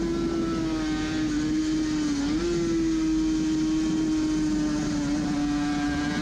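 Suzuki RG500 two-stroke racing motorcycle engine heard onboard at the Isle of Man, a loud sustained buzzing drone holding near-constant pitch with a brief dip and recovery midway, close and continuous with no voices.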